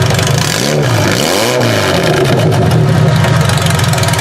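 A Toyota Avalon engine with a broken-off EGR revs up loudly, pitch climbing and falling in two quick blips before settling into a strong, even idle close to the listener.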